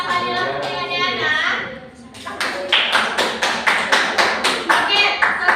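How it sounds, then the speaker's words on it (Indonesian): A classroom of children claps for a student during a microteaching lesson, starting with voices and a few scattered claps, then settling into loud, rhythmic unison clapping near the recorder. "beri tepuk tangan kepada Fadila Putri Adriana"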